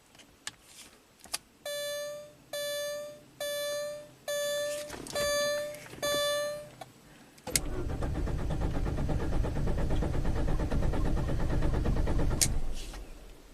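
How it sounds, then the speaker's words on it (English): An abandoned rare Audi turbo engine cranking without catching, preceded by a series of repeated electronic chimes, then a loud steady starter whir lasting several seconds before it stops. "now it's a crank no start"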